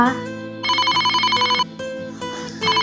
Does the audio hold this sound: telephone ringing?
yes